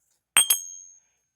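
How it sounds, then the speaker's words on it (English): A small hand bell, swung like a pendulum, rings twice in quick succession, close and bright, each strike leaving a shimmering tone that fades over about half a second in an otherwise silent room. "I just grabbed my bell as like and used it as a pendulum for yes"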